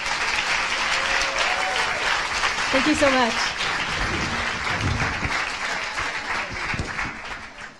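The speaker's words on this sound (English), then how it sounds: "So can I get another round of applause for our panelists?" Conference audience applauds a panel with sustained, dense clapping while a voice speaks briefly over it partway through.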